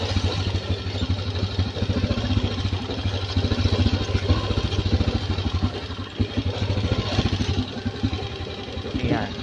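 Motorcycle engine idling and puttering on a mountain route, a steady rhythmic thrum continuing throughout, with people talking over it.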